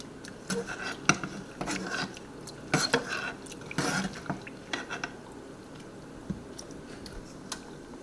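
A metal spoon scooping salsa peppers from a container, producing scattered clinks and scrapes of varying loudness against the dish, close by and without speech.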